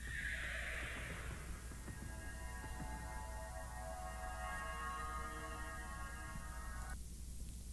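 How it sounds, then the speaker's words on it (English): A horse whinnies loudly at the start, followed by a long, steady tonal hum until it cuts off near the end. "Eu tô ouvindo cavalo."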